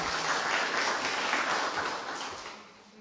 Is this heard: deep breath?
no